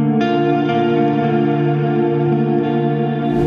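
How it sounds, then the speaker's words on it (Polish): A sustained electric guitar chord rings out with a spacious reverberant wash, the tail blooming and lingering as though in a large room. "Reverb, czyli pogłos, to efekt, który daje nam wrażenie przebywania w pomieszczeniu"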